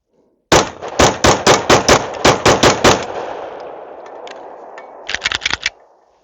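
Glock 43X pistol fitted with a PSA micro slide fires a rapid string of about nine loud, sharp shots on a range, then a short fast burst of five more after a pause, with echoing decay between.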